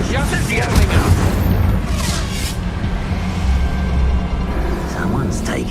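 A Bombarda blast spell explodes in Hogwarts Legacy, a loud booming burst that rolls into a dense rumbling roar, with game voices talking over it.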